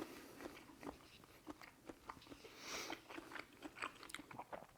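Someone bites into garlic shrimp cooked in butter, olive oil, white wine and lemon, served with French baguette, giving a series of soft, close crunching and chewing sounds in quick, uneven bursts.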